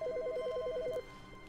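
An office telephone rings in the video game The Stanley Parable, a fast repeating two-tone electronic trill lasting about a second before cutting off, clear against a quiet room hum.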